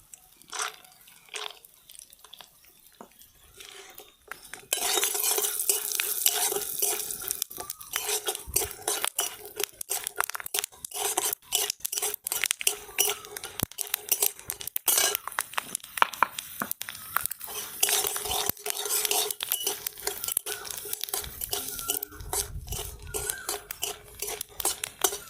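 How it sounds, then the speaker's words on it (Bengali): Peanuts frying in hot oil in a pan after potatoes, for a Bengali banana-flower (mocha) dish: a steady crackling sizzle with scattered clinks of a utensil against the pan, starting softly and turning loud and continuous after a few seconds. "এখন এই তেলে বাদাম ভেজে নেব।"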